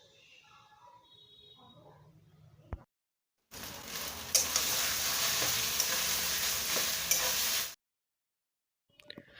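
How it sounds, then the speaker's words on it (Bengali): Grated potato hits hot oil with softened onions in a pan, bursting into a loud, steady sizzle that lasts several seconds before cutting off, with quieter faint sounds around it. "আলুটাকে এখন দিয়ে দেবো।"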